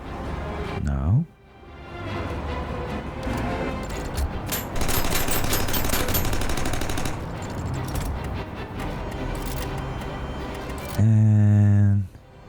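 Gunfire in the video game Aether & Iron, a long dense burst of rapid automatic shots lasting several seconds, loud and close, with game music and a speaking voice around it.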